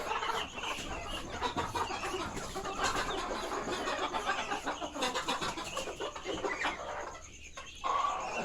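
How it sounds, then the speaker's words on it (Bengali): Native desi chickens on a small homestead farm, kept alongside Chinese duck ducklings, cluck and chatter continuously. The close, busy clucking has overlapping calls and brief louder squawks throughout. "এখানে চীনা হাঁসের বাচ্চা এবং দেশি মুরগি, অসংখ্য দেশি মুরগি"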